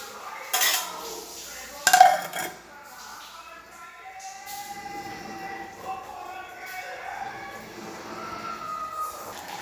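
A metal lid clatters onto a pot of jackfruit seed curry, two sharp clanks early on, followed by softer kitchen handling under quiet background noise.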